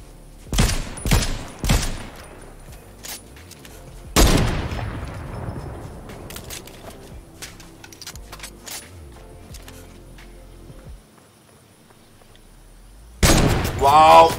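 Gunfire in Fortnite during a solo battle royale match against AI bots: a quick burst of sharp, loud shots, then one heavy blast with a long fading tail, and a final loud shot near the end.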